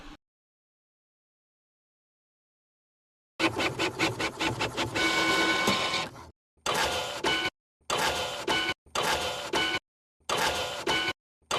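An Artillery Sidewinder X1 3D printer printing a stand, its motors whirring in loud bursts separated by short pauses, close up with no talking.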